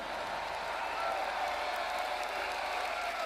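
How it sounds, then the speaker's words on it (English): Church congregation clapping and shouting at a large worship conference, a dense continuous wash of applause and crowd noise at an even level throughout. "give the Lord a great hand clap and a mighty shout"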